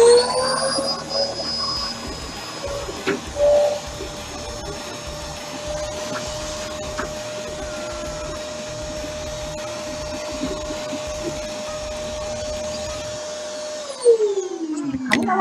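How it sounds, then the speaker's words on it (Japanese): A vacuum cleaner drones steadily throughout while sucking dust out of a household air conditioner, with a sustained whine and a few bumps and clunks, then winds down and stops near the end. "シンジが残していった命の掃除機で吸うしかない"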